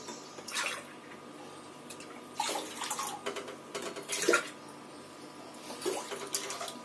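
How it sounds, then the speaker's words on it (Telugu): Water pours in several short bursts, splashing into a pan close by, with quiet pauses between each pour and no talking. "దానికి మూడు రెట్లు వాటర్ పోయండి"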